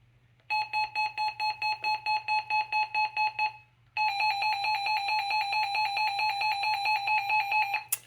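A Radio Shack 12258 weather radio sounds its alert: about a dozen rapid, shrill beeps, a brief pause, then a continuous piercing siren tone held for several seconds, close and clear with no talking.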